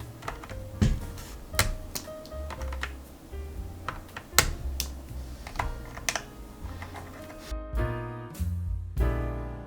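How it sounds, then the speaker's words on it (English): Switches are pulled one after another from a Royal Kludge RK68 mechanical keyboard with a switch puller, producing crisp irregular clicks and snaps close by, sometimes in quick pairs, with no voices. "we grab our switch puller, and now we are going to remove all of the switches"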